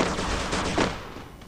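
Rapid gunfire from a headshot in Garena Free Fire, a loud, dense burst of shots filling the moment and tapering off near the end, with no talking over it.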